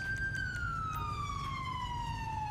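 Police car siren from GTA 5, a single sustained wail gliding slowly downward in pitch, loud and steady over a constant rumbling engine and road bed, with no talking.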